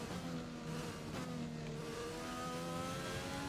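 A Formula One car's engine in the F1 2020 racing game, played in My Team mode at the Austria circuit, revs in a steady, droning whine with rising harmonic tones under continuous background noise.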